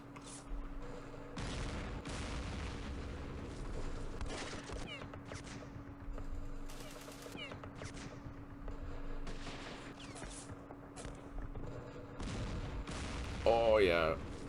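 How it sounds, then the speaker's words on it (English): Gunfire from a machine gun in the Campaign Series Middle East war game, crackling bursts and booms running throughout over a steady hum, with a voice talking along the way. "Aha, I got the machine gun. Take some of that."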